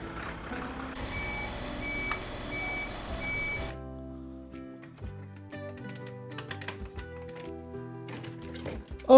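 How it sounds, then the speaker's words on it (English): Trash truck reversing beeps in a steady repeated pattern, followed by clattering, tapping mechanical sounds, all fairly close with no talk. "Oh, look, a trash truck."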